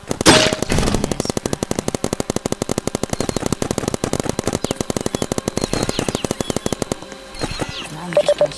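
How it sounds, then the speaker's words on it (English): Sentry guns fire in a Roblox paintball game, a rapid, steady stream of sharp shots running for about seven seconds, loud and close, then cutting off into quieter game sounds. "Place two sentry guns."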